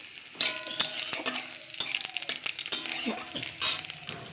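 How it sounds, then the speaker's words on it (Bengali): Panch phoron spices crackle and sizzle in hot oil alongside green chillies, with sharp spatula clinks and stirring scrapes in a busy, uneven rhythm, close and fairly loud. "এবার একটু পাঁচ ফোড়ন দিয়ে দিলাম"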